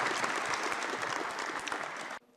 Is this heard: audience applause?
yes